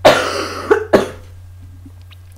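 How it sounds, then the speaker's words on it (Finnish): A single small cough, close and fairly loud, followed by two shorter cough bursts, then near silence with a steady low hum underneath. "nyt tulee taas pikkuinen yskäsy"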